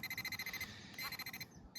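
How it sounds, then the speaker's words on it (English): Rapid, evenly spaced electronic beeps from a Minelab X-Terra Pro metal detector over scrap metal pulse quickly and faintly, with a brief pause before the beeping resumes. "you can see once you get near it, the alarm sounds. As you get closer, the beeps get faster"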